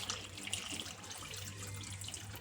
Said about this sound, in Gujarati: તેમાં આપણે પાણી ઉમેરીશું